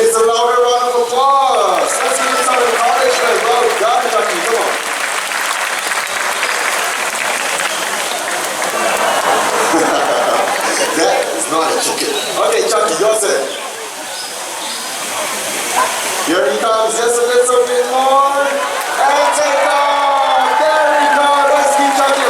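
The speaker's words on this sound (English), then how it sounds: "He needs a louder round of applause." An audience at the High Flyers bird show in Jurong Bird Park breaks into loud sustained applause, a dense wash of clapping that dips briefly midway and swells again, with a presenter's amplified voice heard over it.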